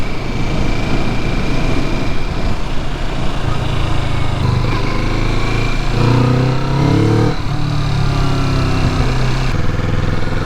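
A 2019 Kawasaki Vulcan S cruiser motorcycle runs with a loud, continuous low engine rumble, steady throughout with slight shifts in pitch as the revs change.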